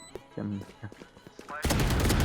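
Sheriff pistol shots in a tactical shooter video game, with game gunfire and effects under Turkish talk early on, then a loud sustained burst of noisy in-game action near the end.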